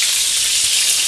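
Steady, close sizzle of meat frying in a hot pan with butter, a dense unbroken crackle and hiss with no voices over it.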